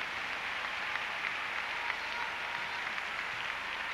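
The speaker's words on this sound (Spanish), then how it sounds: "se lleva el aplauso del público" An arena audience applauds gymnast Esther Escolar after her ribbon routine at the 2005 Mediterranean Games qualifications, a faint, distant, even patter of clapping that holds steady throughout.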